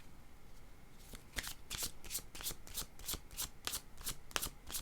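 Tarot cards are shuffled in a quick, even series of crisp riffling flicks, close and fairly quiet, running steadily for about four seconds after a brief quiet start.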